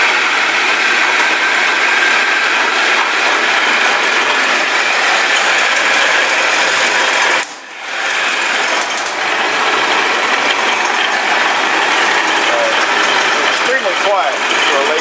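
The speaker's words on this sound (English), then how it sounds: "Extremely quiet for a lathe this age." A Delta Rockwell 11x26 variable-speed, all-gear-driven metal lathe runs steadily and fairly quietly, with a continuous whirring, ticking mechanical hum that dips briefly once midway.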